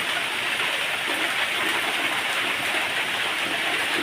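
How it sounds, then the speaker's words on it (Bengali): Heavy rain pours steadily around a village home during a storm, a dense continuous hiss of downpour on surfaces, loud and unbroken throughout with no voices. "প্রচুর বৃষ্টি হচ্ছে, প্রচুর।"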